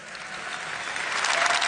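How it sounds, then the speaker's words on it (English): An audience at a Formula 1 team's car presentation breaks into applause, a brief burst of dense clapping that grows a little louder over under two seconds. "I think we need to give a round of applause to the creative team from Alpha Tauri, Mick Young, Tanya, and Amit."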